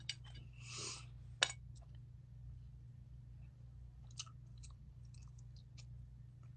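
Someone chews a big mouthful of food close to the mic: quiet, wet smacking and crunching with a couple of sharper bites, then soft sporadic chewing, with no talking.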